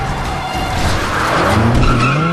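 Car tires skidding and squealing in a loud, sustained screech over rumbling engine noise and road roar, with no speech.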